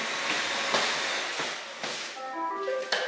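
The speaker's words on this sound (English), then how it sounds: "Vacuum is still on." A running vacuum cleaner gives off a steady, fairly loud whooshing hiss, broken by a few brief knocks and faint whistling tones near the end.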